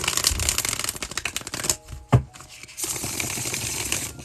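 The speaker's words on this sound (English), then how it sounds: "Okay, I shuffled it away." A tarot card deck being shuffled close by, a dense papery riffle of cards with a brief pause and a sharp tap midway before the shuffling resumes.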